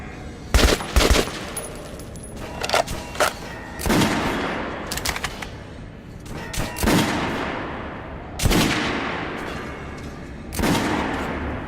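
Gunfire at a shooting range in the video game Metro Last Light: several loud, sharp shots in separate bursts spaced a few seconds apart, each ringing out over a low, steady background.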